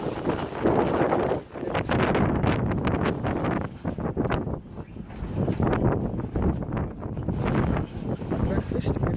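Wind gusts steadily across the microphone at an open-air harbourside breakfast table in Mallorca, a loud, continuous buffeting roar that swells and dips throughout.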